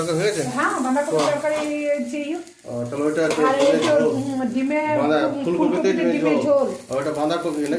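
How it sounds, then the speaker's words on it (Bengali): Pumpkin flower fritters (bora) fry in a pan with a steady sizzle under continuous nearby talking that dominates the sound. "এবারে কুমড়ো ফুলের বড়া করছি"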